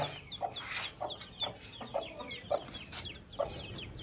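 Chickens and roosters let out from their coop cluck close by in a busy yard, a series of short, sharp clucks and squawks spaced irregularly over roughly four seconds, with faint bird chatter in the background.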